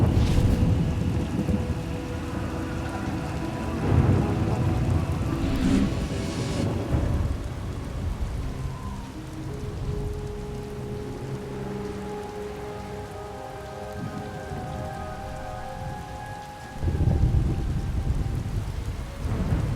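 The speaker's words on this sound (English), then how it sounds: "Hard to track them through the storm. Rain's wiped out the trail." Steady rain falls heavily in a video game storm, Star Wars: The Old Republic, while thunder rumbles low and long, swelling and fading, with another loud roll of thunder near the end.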